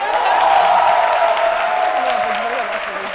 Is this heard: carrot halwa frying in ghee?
no